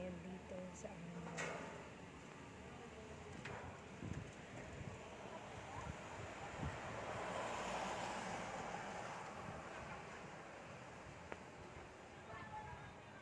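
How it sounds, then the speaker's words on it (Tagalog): Gusty wind from Typhoon Rolly in Makati, Philippines roars across an open microphone, swelling and easing in broad rushing waves, with occasional thumps and buffeting. "Pagbugso-bugso lang yung hangin yung nararanasan namin dito."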